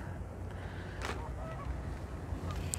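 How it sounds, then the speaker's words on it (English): Geese honking at a lakeside fishing spot on a chilly day, a brief call standing out around the middle over steady outdoor background noise, with a few fainter calls later. "And there's geese everywhere."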